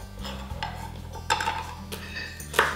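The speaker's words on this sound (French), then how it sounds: "On va émincer l'ail." A knife mincing garlic, a few light, sparse taps of the blade against a board, quiet and close, with clinks of kitchenware over a low background hum.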